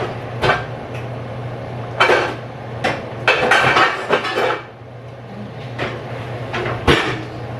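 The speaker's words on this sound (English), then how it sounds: "let me grab a pan" A pan is pulled from a kitchen cupboard while making dinner, with metal pots and pans clattering and knocking in loud, close, uneven bursts and no talking.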